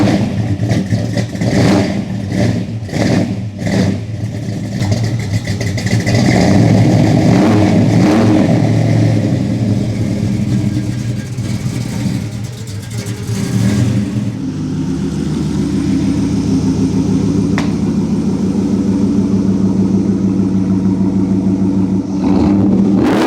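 A Dodge Dart's exhaust blipped in a shop, loud rapid revs with sharp throttle chops in the first half, then settling into a sustained, rumbling idle.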